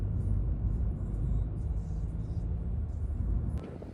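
A booked Bolt taxi carrying riders toward a city centre in Romania, a continuous low engine and road rumble from inside the car, steady and fairly loud throughout.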